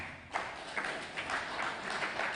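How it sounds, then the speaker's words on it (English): Audience applause at an NSMQ 2020 preliminary quiz contest between Ghanaian senior high schools, a steady wash of many hands clapping that swells slightly after the first moment and carries on without talk. "let's applaud them"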